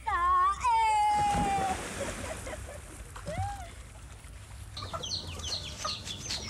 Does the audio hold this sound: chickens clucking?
yes